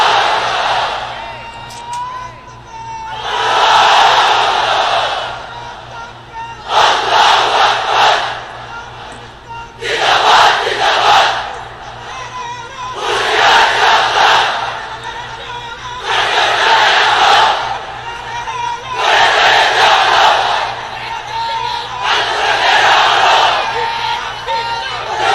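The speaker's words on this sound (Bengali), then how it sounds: "এক একটা তাকবীরে যাতে এই প্যান্ডেল কেঁপে ওঠে।" A large crowd in a pandal at an Islamic sermon gathering in Bangladesh shouts the takbir slogan in unison: about eight loud, roaring chant bursts in a steady call-and-response rhythm, with brief pauses between them.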